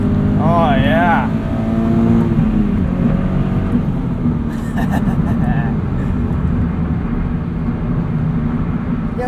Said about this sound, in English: Taking this entrance ramp at 62 miles an hour.